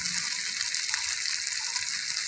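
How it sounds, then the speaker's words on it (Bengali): Water is poured into a cooking pan of paneer curry, a brief steady gushing stream heard close and alone. "এবার আমি জল দিয়ে দেবো।"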